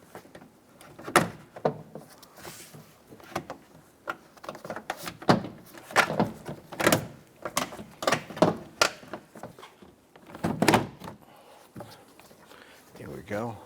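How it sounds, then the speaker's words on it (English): A door panel on a 2000-2006 Toyota Tundra is hung on its upper metal rail and tapped into place, giving a busy run of close plastic clunks, knocks and taps of uneven strength. "Hang the top of the door panel on the upper metal rail."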